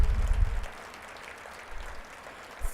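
Audience applause for elected officials and political candidates at a veterans salute event, a brief burst of clapping and cheering that quickly fades to a faint patter.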